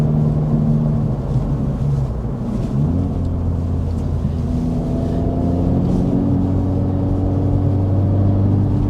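A 2024 Acura Integra Type S sport sedan taking corners on a curvy canyon road, heard from inside as a steady engine drone and road rumble, with the engine pitch shifting between bends.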